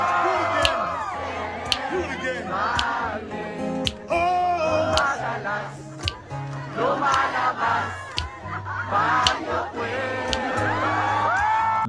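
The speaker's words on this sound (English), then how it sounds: "This just feels like a proper sing-along." A loud Filipino concert crowd sings along together with shouts and whoops, the massed voices swelling and dipping over nearly twelve seconds, broken by sharp claps and snaps.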